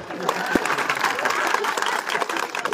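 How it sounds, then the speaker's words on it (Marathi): A crowd at a Marathi political speech applauds with dense, steady clapping that holds for the whole stretch, with murmuring voices mixed in. "टाळ्या वाजवा"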